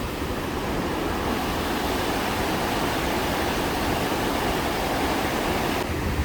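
Water pours steadily over the old dam at Batsto Lake, a dense, even roar of rushing flow that stays loud and unbroken throughout, with no voices.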